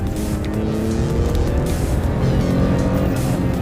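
A 2018 Toyota Tacoma TRD Sport pickup truck pulls hard through its mid-range, with a steady, loud engine roar and road rumble that holds throughout without a break.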